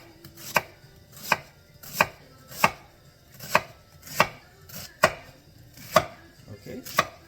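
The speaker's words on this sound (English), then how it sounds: "I'm going to just cut my onion into strips" A knife chopping an onion into strips on a cutting board, about ten crisp, evenly spaced cuts in a steady rhythm, close and clear with no talking.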